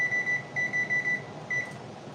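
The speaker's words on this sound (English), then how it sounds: "we're gonna put a timer on here, 28 minutes, so I hear this timer" A cooking timer set for rice beeps in a kitchen, a steady electronic tone repeating in short pulses, about eight beeps with a pause, clear over low background hum.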